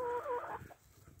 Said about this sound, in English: I got a total of 18 chickens